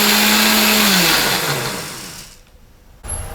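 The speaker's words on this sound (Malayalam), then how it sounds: "മിക്സിയിലാണ് അരയ്ക്കാൻ പോണത്" A kitchen mixer grinder loaded with coconut whirs loudly up close, then winds down and stops, leaving a brief hush before a short burst of noise.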